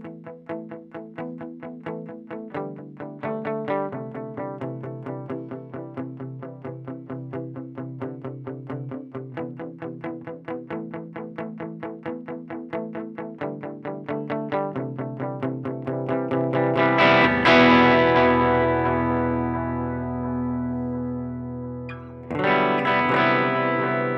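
Electric guitar picking a repeating riff through a Boss DD-7 delay pedal in analog mode, echoes trailing each note, building into louder strummed chords with washy repeats.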